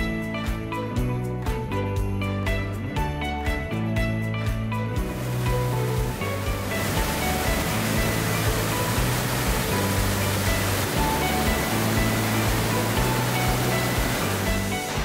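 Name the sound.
waterfall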